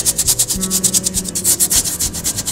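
Fingers rub down florist foam while shaping model railroad scenery, a loud, steady rhythmic scraping with quick repeated strokes running throughout.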